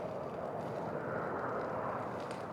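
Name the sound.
airplane taking off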